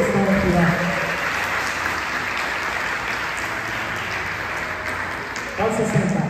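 A church congregation at a Portuguese-language service applauds in a dense, steady burst of clapping lasting several seconds. A voice is heard briefly at the start and end.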